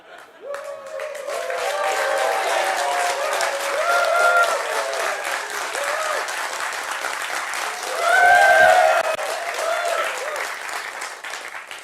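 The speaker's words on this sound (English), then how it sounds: "I want you guys to clap and applaud and be excited" Audience clapping and cheering, a dense wash of applause that builds quickly, holds steady and swells louder near the end, with voices calling out above it.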